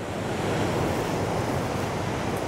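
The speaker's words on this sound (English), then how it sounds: "Yeah, the waves are phenomenal this morning." Ocean waves crash on the Cornwall coast near Sennen, producing a continuous, full surf roar that stays loud and steady, with some wind buffeting and no voices.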